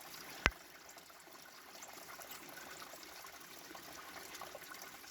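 A natural spring at an old, nearly collapsed spring house in Macon County, Tennessee, trickles in a soft, steady flow with no one talking, broken once early by a brief sharp click.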